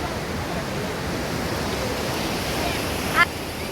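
A river in Kullu near Manali, where rafting is done, rushes in a steady broadband roar close by, with no pauses across the whole stretch.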